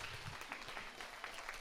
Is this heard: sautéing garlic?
no